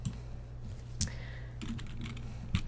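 A few sparse keystrokes on a computer keyboard, entering a letter and pressing Tab while filling in a campground reservation form, with isolated clicks over a steady low room hum.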